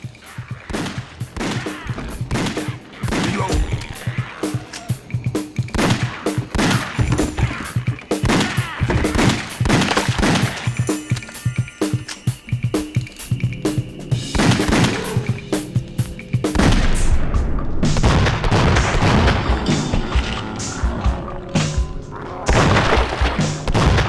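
Rapid bursts of light gun fire from House of the Dead Overkill on the Wii U, loud and dense with repeated sharp shots and booms continuing throughout, layered with game effects and no talk.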